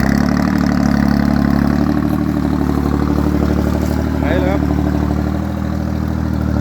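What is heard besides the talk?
tractor engine running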